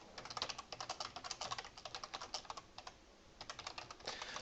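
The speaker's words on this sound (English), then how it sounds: "your keyboard's like insanely loud" Loud computer keyboard typing in rapid, uneven bursts of sharp clicks, close to the mic, with a few short pauses and no talking.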